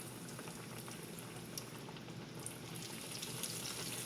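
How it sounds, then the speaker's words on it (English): Breaded chicken sizzles in hot oil in a shallow pan, a steady faint crackling hiss with small pops throughout. "Should sizzle when you put your chicken in."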